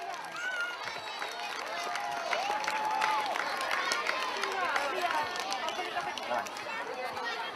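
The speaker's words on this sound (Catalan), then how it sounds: "els fem un fort aplaudiment als nostres voluntaris" A crowd at a children's carnival applauds its volunteers with steady, dense clapping mixed with cheers and lively chatter, moderately loud and sustained throughout.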